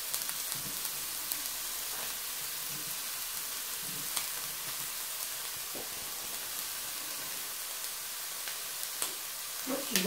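Onions and garlic fry in a pan while trail food is cooked, making a soft, continuous sizzle with small crackles that runs alone at low volume.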